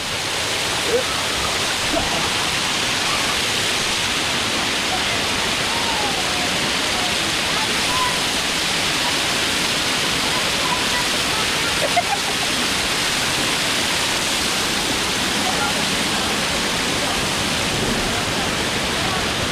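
A waterfall and the river flowing from it roar as a loud, unbroken rush of water that stays steady throughout, with no voices.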